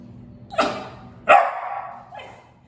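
A few loud, close dog barks at an animal rescue shelter, three in under three seconds with uneven gaps, the last one softer, over a low background hum.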